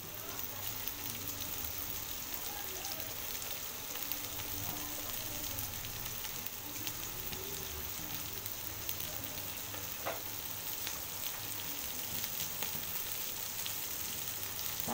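Chopped cabbage and carrot fry in a pan for fried rice, giving a steady, dense sizzle that holds evenly throughout, close up and moderately quiet, with a few faint clicks of stirring.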